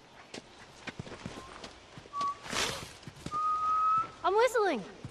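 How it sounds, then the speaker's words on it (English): A character in the video game The Last of Us whistles a few short, clear notes and then a quick rising-and-falling tune, over soft footsteps in a quiet scene. "I'm whistling."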